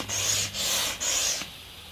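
A wingsurfing wing bladder is pumped up in three steady strokes, each a close, breathy rush of air with short pauses between, and the last stroke trails off.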